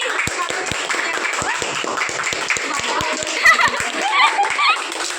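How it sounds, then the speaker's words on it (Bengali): A group claps hands together at a Teachers' Day celebration, a quick irregular patter of sharp claps close by, with children's voices and chatter running underneath. "সবাই মিলে হাত তালি।"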